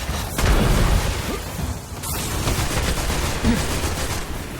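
Rapid automatic gunfire from shooting in the video game Destiny, a dense, loud, continuous barrage of bursts and booms filling the whole stretch.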